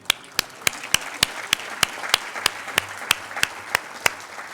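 Audience clapping in honor of standing firefighters at a graduate salute ceremony: one crisp, evenly spaced clap stands out every third of a second above a soft wash of scattered applause in the room.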